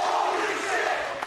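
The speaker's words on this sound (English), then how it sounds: "the crowd breaks out into a holy shit chant." A wrestling crowd at a deathmatch show roars in a brief, dense burst of chanting voices, loud and massed with no single voice standing out.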